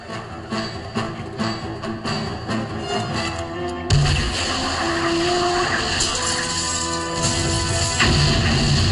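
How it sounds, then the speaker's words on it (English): A loud, dense burst of noise erupts midway through a rumbling, chaotic din in the animated series Gargoyles, leaving a sustained roar of debris and low booming afterward. "Tear gas doesn't cause that kind of explosion."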